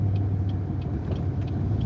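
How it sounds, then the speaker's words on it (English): A lifted Ford F-150 pickup truck speeding past on a road, giving a steady low engine and tire rumble that stays loud through the short stretch, with no voices. "That F-150 that's lifted is flying."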